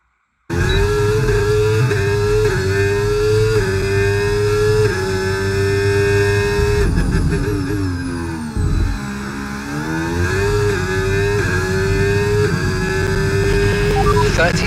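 A Ferrari Formula 1 car screams through a hot lap of Monaco, its high engine whine holding steady, then dropping and climbing again through gear changes and braking. Voices talk over it at times.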